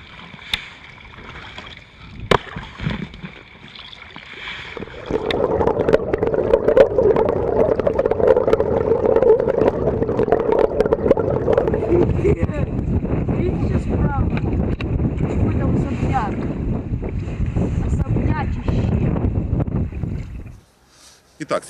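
Wind gusting over the microphone while a Vega 3 kayak is paddled on open water, a steady broad roar building after a few seconds and lasting until near the end, with people talking over it.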